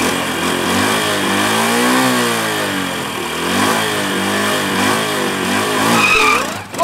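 A stock car does a tire burnout at the start of a drag race, its engine roaring loudly and close with rising and falling revs over a continuous screeching tire skid.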